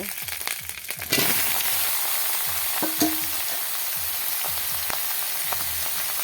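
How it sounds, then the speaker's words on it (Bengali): Garlic and ginger fry in a pan ahead of the bottle gourd, giving a steady crackling sizzle with a louder burst about a second in and scattered stirring scrapes, all close and without talk. "ভালো করে রসুন আর আদা ভেজে নেব"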